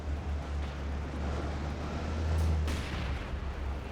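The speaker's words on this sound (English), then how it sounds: "Katusha barrage." A Katyusha rocket barrage in a competitive 2v2 strategy game: a deep, rumbling roar of launches and impacts swells and rolls on continuously, with a brief brighter burst near the end.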